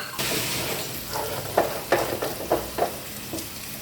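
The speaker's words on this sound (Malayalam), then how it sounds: "ഇനി നന്നായി മിക്സ് ചെയ്യാം." A thick mix of rice flour, jaggery, jackfruit, grated coconut and cardamom is stirred in a pan, giving soft sizzling with a few sharp scrapes and knocks of the spoon, close up.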